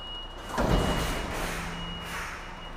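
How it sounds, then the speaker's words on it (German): A truck hauling a tandem trailer backs up and brakes hard, a loud broadband rumble and hiss swelling then settling under a steady high beeping tone. "fahrt ihr nun mit Hilfe des Sicherungsposten ein Stück rückwärts und bremst relativ stark"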